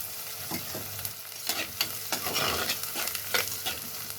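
Sliced onions sautéing in a pan for an anchovy fish curry, giving a close, steady sizzle broken by several spatula-stirring scrapes and crackling bursts.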